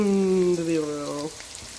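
Chicken fingers fry in oil in a cast iron pan, a steady soft sizzle close by, with a falling tonal whine over it for the first second or so.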